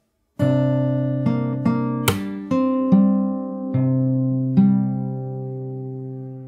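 Fingerstyle guitar plays a passage from a song, opening after a short silence with a run of about seven plucked notes and chords at an even pace, close, solo, the strings ringing between attacks.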